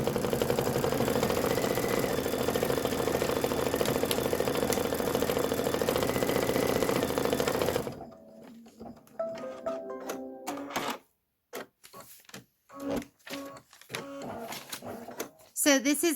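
An embroidery machine stitches a pie tin fill design for a Kimberbell bench pillow, humming and clattering steadily for about eight seconds before cutting off, after which a person speaks over scattered handling noises.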